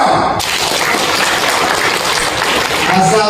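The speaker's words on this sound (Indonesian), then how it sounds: "Tepuk tangan dong." Audience claps together at a talk, a dense, loud burst of applause starting abruptly and continuing steadily, with faint voices mixed in.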